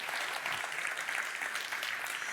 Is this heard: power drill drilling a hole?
no